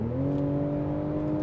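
BMW Z4 M40i roadster in sport mode gives a steady, loud engine drone with a climbing tone as it accelerates, heard close and continuous with no voices.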